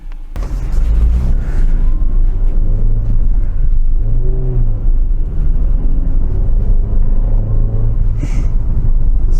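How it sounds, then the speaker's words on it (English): Citroen DS3 with a petrol engine and five-speed manual gearbox driving along, a steady loud engine drone and road rumble throughout with rising and falling harmonic tones as revs change, heard from inside the car. "Let's have a drive and see what it's like."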